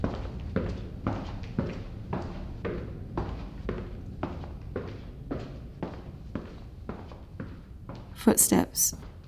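A man's footsteps passing by, a steady series of about a dozen close, even treads on a hard surface, followed by a couple of brief sharper clicks near the end.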